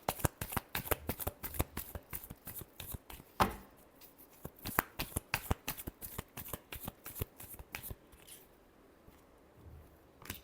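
Tarot cards are shuffled in rapid, rhythmic riffling bursts with crisp flicks and slaps, close and fairly quiet, continuing steadily throughout.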